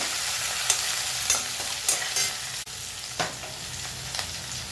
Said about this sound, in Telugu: కొద్దిగా కరివేపాకు, కొంచెము కొత్తిమీర, చిటికెడు పసుపు వేసి బాగా వేపండి